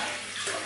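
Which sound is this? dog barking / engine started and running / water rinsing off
water rinsing off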